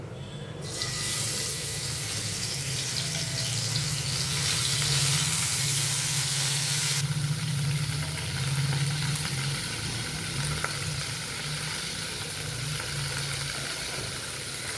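Chicken dropped into a hot pan and frying, a loud dense sizzle that flares up at the start and settles into a steady hiss for the rest of the clip, with no voices.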